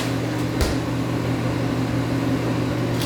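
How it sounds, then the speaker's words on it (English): An old microwave oven runs with a steady low mechanical hum and a faint fan-like whir, a continuous drone with a brief click near the start and no talking. "my microwave's like a little old, so it doesn't always cook it"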